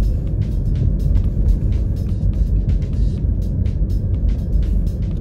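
Steady low engine and road rumble from the inside of a moving car, continuous and fairly loud throughout with no talking.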